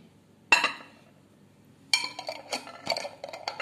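Instant coffee powder and honey stirred together in a small bowl for a face mask: a sharp spoon clink, a pause, then a run of quick scraping, tapping strokes against the dish, close and quiet, no talk.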